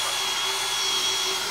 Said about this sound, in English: You don't need your drill on fast,